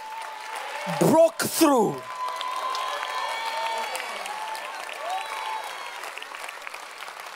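A church congregation at a prophetic service claps in a steady, moderate wash of applause that continues under a loud preacher's voice nearby.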